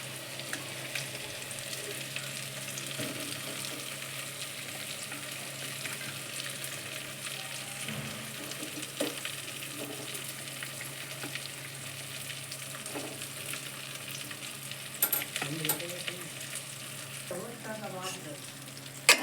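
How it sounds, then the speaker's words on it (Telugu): Soft, steady sizzle of chopped onion pieces frying in oil for a Telangana mango and egg curry, with occasional stirring scrapes; quiet and continuous throughout. "ఇప్పుడు మిగిలినటువంటి ఆనియన్ ముక్కలు మొత్తం వేసుకోవాలి."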